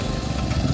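A tractor belonging to Ratan Lad in a Konkan village runs with a steady, close diesel rumble. The engine note holds even throughout with no pauses or voices.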